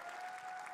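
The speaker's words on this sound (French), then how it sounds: "On applaudit Lego" Audience applause at the Summer Game Fest 2025 main showcase as a guest is welcomed, a brief, fairly faint continuous crowd clapping with a steady tone running beneath it.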